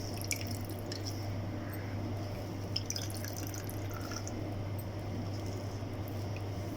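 Water drips from freshly made chhena pressed gently by hand while preparing rasgulla. Soft, scattered drips fall at irregular intervals, close by and faint, over a low steady kitchen hum.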